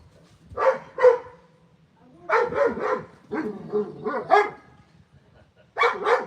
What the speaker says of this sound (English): We don't want to hear you bark.